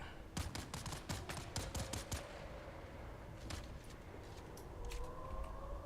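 Rapid gunfire bursts crackle in the video game Dune Awakening, a quick string of shots in the first two seconds followed by scattered later bursts over a faint rising siren-like tone, all fairly distant and soft.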